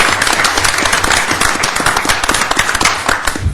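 An audience at an informational meeting in Sioux Falls claps and applauds, a dense, loud burst of many hands clapping together throughout, close and sustained with no talk.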